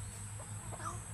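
A few soft chicken clucks, faint and brief, over a steady low background hum.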